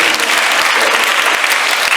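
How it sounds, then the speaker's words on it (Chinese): Audience at a live concert clapping loudly and continuously, a dense close wash of applause that holds steady for the whole stretch. "给自己一个掌声好不好？"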